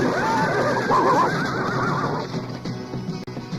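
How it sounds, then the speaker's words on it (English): Horses neigh loudly and close by, a long wavering whinny that rises and falls before trailing off into quieter movement. "Scare those horses."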